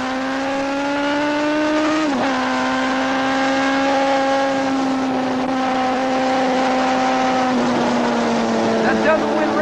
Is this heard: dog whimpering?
no